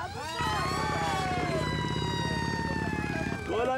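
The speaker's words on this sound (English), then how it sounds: "Plays those sirens all day" A wailing vehicle siren sweeps up and down loudly and close by, running steadily for a few seconds before cutting off, with a short burst at the end.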